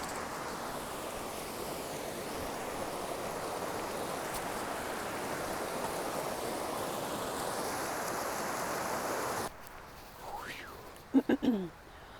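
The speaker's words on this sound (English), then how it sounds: "River Crossin." Broadband rushing water from a river at a trail crossing in the Sierra pours steadily and evenly for about nine seconds, then drops away to quieter surroundings with a few brief knocks and chirps at the end.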